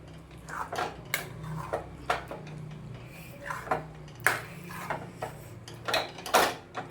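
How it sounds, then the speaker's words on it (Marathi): Rava gulab jamun mixture stirred with milk in a metal pan, giving separate spoon clinks and scrapes in an irregular rhythm, close and fairly clear, with no voices. "आता आपण ते मिश्रण व्यवस्थित हालवून घेऊया"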